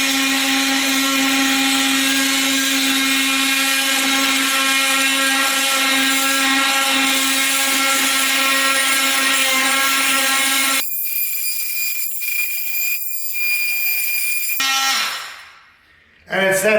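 An oscillating power tool grinds out grout along the joints around a floor tile with a loud, steady high-pitched whine. It cuts off partway through, leaving quieter tool noise and a brief bump near the end.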